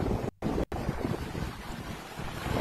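Strong river floodwater surging during Typhoon Crising, a dense continuous roar and rush of water mixed with wind buffeting the microphone, loud and close, broken by two brief dropouts.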